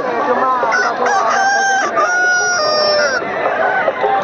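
A rooster crows loudly and close by at a crowded village fair, one long drawn-out crow lasting a few seconds, with other fowl clucking faintly underneath.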